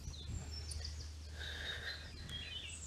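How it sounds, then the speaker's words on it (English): Birds sing at the RSPB Ham Wall and Shapwick Heath nature reserves in Somerset, a few faint, distant whistled phrases drifting over a steady low rumble of outdoor background noise. "Hear the birds."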